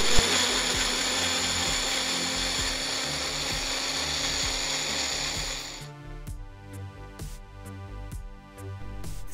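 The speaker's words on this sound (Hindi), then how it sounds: "अब हम इन सब चीजों को एक साथ ब्लेंड करेंगे।" A blender whirs loudly and steadily while blending smoothie ingredients with almond milk, a dense motor whine that drops abruptly in pitch and load partway through, then keeps running with a rougher, lower churn.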